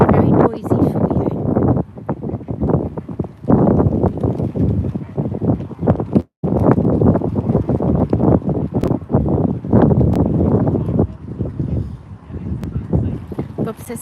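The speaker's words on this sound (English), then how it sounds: "It's very windy here." Strong wind at Potter Heigham buffets the microphone in continuous loud gusts, briefly dropping out once, with occasional talk underneath.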